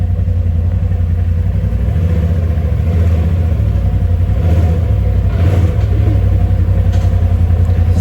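A Polaris RZR Pro XP engine, after a clutch alignment, runs with a steady low rumble close by and dips slightly in pitch as the gears are shifted, with no voices.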